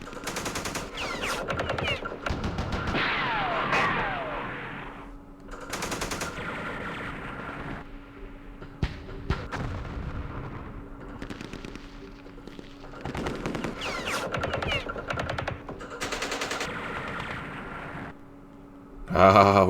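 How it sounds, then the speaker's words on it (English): Gunfire and machine-gun bursts from the Vietnam war game Campaign Series Vietnam, set at Dien Bien Phu: repeated loud clattering volleys and single cracks spread throughout, with brief pauses between bursts. "let's do some shooting"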